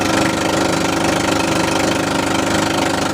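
Suzuki Raider 150 Fi motorcycle engine running on a long solo ride, a loud, close, steady rapid thrumming with a dense mechanical rattle and no voices.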